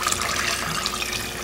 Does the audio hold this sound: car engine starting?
no